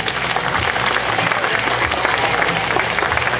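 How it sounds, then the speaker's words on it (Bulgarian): An audience at an open bench press tournament in Sozopol breaks into loud, continuous applause that fills the room and mixes with crowd murmur, without pause from start to finish. "Моля ви, аплодисменти за нея."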